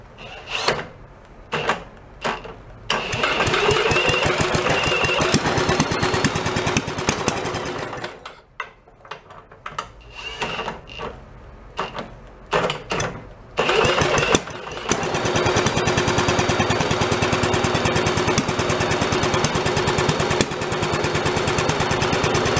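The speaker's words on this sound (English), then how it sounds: "Let's give it a little bit more RPMs." An antique Briggs engine, recently torn down, sputters on a cold start in short bursts, then settles into a loud, steady chatter as it revs up.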